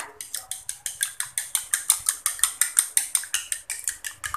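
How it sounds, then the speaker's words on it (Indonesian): Eggs being beaten in a bowl for date cookies, with a steady run of about twenty quick rhythmic clicking strokes, close and fairly loud, with no talking. "Sekarang saya kocokin dulu telurnya ya"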